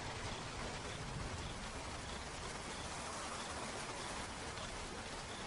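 Steady rain falls on the ground in the Okavango wilderness, a dense, even hiss of drops that fills the whole stretch without pause, with no voices.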